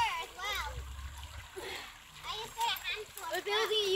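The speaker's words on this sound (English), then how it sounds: "it was lovely to watch my 2 great nephews and great niece playing in the river" Young children play and splash in the small East Onny river, building a rock dam, with water sloshing and trickling under their near, lively voices and chatter throughout.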